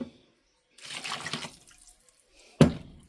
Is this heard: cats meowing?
no